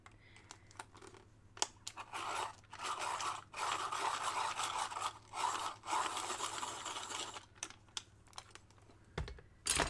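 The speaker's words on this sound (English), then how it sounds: "I'm going to sharpen it so it's sharp again" A colored pencil, loaded with a middle cadmium red, is turned in a sharpener, giving bursts of dry scraping and grinding in short repeated strokes with brief pauses between them, close and moderately quiet.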